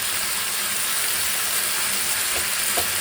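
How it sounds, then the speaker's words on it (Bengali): Marinated chicken breast pieces fry in a little oil in a pan, giving off a steady, close, even sizzle with no talking. "হালকা একটুখানি তেল দিয়ে এটাকে একটু ভাজা ভাজা করে নেবো"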